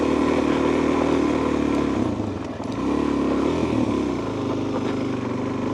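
A motorcycle ridden slowly on a gravel road by a beginner rumbles loudly and steadily up close, its engine dipping briefly mid-ride before the throttle picks up again, with tyre crunch and clatter underneath.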